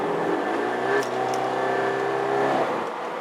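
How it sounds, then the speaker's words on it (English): A Scion FR-S sports car engine holds a steady, loud droning rev during a rev-matched downshift, heard from inside the car with no talking. "Hypersensitive throttle. And match rev downshifts."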